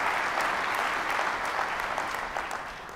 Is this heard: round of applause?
yes